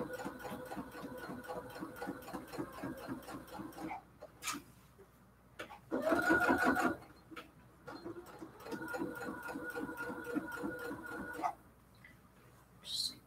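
A sewing machine back stitches along the edge of a pillow case for a cathedral window quilt, running in steady bursts with short pauses between runs, close and clear.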